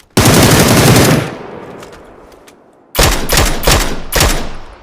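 Loud automatic gunfire in the battle-royale game PUBG: a sustained burst, then fading echo, then several more rapid bursts, close and dominant with no talking.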